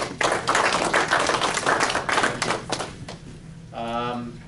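A short round of audience applause at a REMSCO meeting, a burst of many hands clapping fairly close, thinning out after about three seconds before a voice begins speaking.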